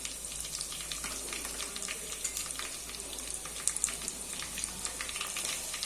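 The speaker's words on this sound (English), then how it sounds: "Now let's add the chopped onions." Chopped onions fry in a pot for chicken curry, giving a steady, soft hiss and crackle with scattered small pops, close by and fairly quiet, with no one talking.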